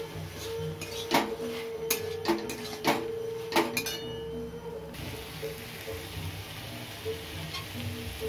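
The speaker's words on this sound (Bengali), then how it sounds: "এবার আমি ভেজে রাখা পটলটা দিয়ে দেবো।" Fried pointed gourd drops into cooked spiced masala in a pan, with a steady sizzle under a run of sharp metallic clinks and scrapes from stirring, which then settle into quieter frying.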